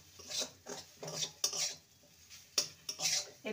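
Spiced green pea filling being stirred in a pan. A metal spoon clinks and scrapes against the pan in a quick, irregular rhythm, close and fairly quiet.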